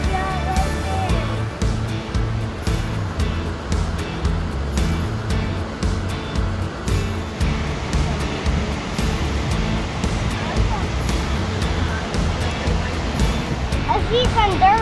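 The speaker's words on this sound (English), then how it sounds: "Let's see the waterfall." Tahquamenon Falls in Michigan's Upper Peninsula, its water rusty-coloured, sends a steady broadband roar of falling water that runs unbroken beneath people talking.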